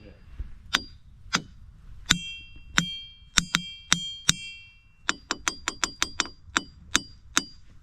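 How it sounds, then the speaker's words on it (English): Rocks at Ringing Rocks Park struck about fifteen times in an irregular series, each hit a sharp metallic ding with a bright bell-like ring that decays quickly, clear and close over faint outdoor background. "That's a good ringing rock, Tony."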